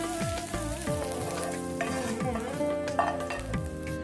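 Tempering is stirred into a cooked sundakkai (turkey berry) mixture in a pan, a spoon scraping and clinking rhythmically under a steady sizzle, with a sustained ringing tone over it.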